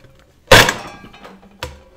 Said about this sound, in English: I'm going to try to grind this coffee using this pot on this floor.